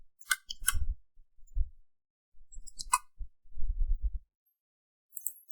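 A few sharp, isolated clicks from a computer keyboard and mouse, separated by quiet gaps and soft low thumps.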